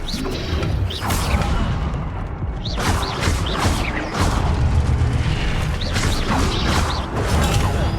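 The Incendio fire spell is cast during combat in the video game Hogwarts Legacy, giving repeated whooshing bursts and booms over a dense, continuous layer of game sound.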